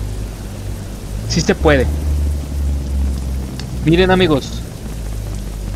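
Rain in American Truck Simulator falls as a steady, even hiss that runs the whole time, fairly loud and close, under someone speaking Spanish.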